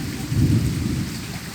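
Deep thunder rumbles through steady rain, a loud low roll swelling and fading over the constant hiss of falling drops.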